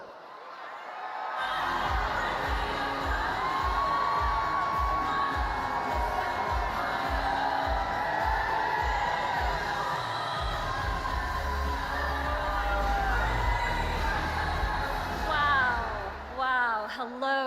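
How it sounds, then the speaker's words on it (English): A large rally crowd in Raleigh, North Carolina cheers and whoops for VP Harris, a loud continuous roar with rhythmic chanting and stomping, some voices calling out near the end. "This is an amazing crowd"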